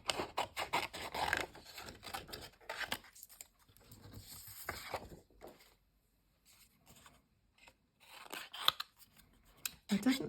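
Scissors snip repeatedly through altered playing cards at a craft table, giving close, crisp cutting strokes in bursts, with quieter pauses and some soft rubbing and handling noise between the cuts.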